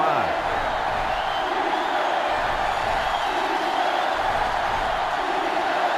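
A stadium crowd cheers in the NCAA Football 2005 video game, a dense continuous roar with rising swells, heard under an ongoing commentator's voice.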